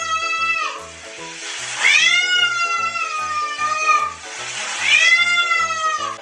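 A cat meowing in long, drawn-out calls, two or three loud wails over a steady background beat, close to the listener.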